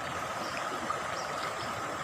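River water flowing steadily at Sungai Kaingaran in Tambunan, a broad, continuous rushing wash that stays even and moderately loud for the whole stretch, with no voices.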